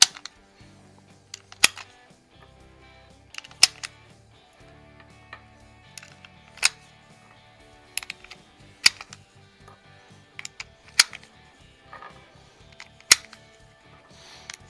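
Izhmash Saiga .223 rifle fired at a range with steel-cased Bear Ammo .223 rounds, 62 grain bullets: seven sharp, loud shots spaced a second or two apart, with quiet low rumble between them and no talk.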